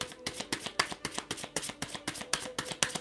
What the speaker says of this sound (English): look at me shuffling all the way around.